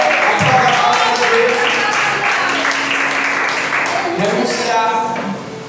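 A church congregation applauds during a family worship service, sustained clapping mixed with voices and shouts, a speaker talking over it as the applause gradually thins out.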